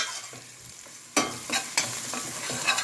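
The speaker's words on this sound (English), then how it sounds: "I'm sauteing my garlic and ginger paste with the onion here" Garlic and ginger paste sautéing with onion in a pan, a soft sizzle broken by several sharp scraping stirs of a spoon, close and clear, with no talking.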